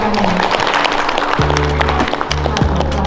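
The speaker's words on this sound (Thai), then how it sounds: "ขอเสียงปรบมือด้วยค่ะ" A crowd at a Thai school event on teaching English applauds steadily as a speaker is welcomed, a dense patter of clapping with a few low sustained tones underneath.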